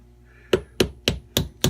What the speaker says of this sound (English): using a hammer to fix a hammer